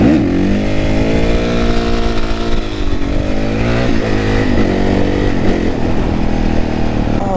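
A supermoto motorcycle engine revs hard during a wheelie, loud and close, its pitch climbing and dipping through several throttle surges over a constant rough roar.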